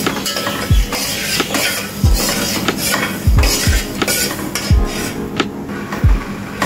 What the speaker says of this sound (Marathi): तर साखर वितळेपर्यंत हा पाक आपण हलवून घेऊया